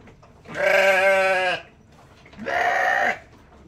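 Newborn Dorper lambs and a ewe bleating, two clear drawn-out bleats about a second long each with a short pause between, close and fairly loud against a quiet background.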